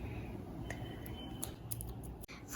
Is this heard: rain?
no